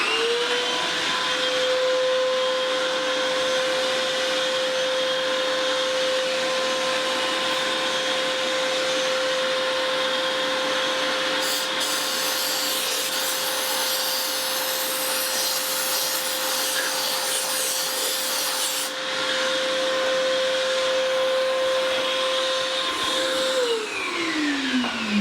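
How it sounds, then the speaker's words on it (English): A shop vacuum runs continuously for about 25 seconds, drawing lapping compound off a GM 5.3 engine cylinder head, a loud steady whine with a brief shift in pitch midway as the nozzle moves. "So let me vacuum this off so we can"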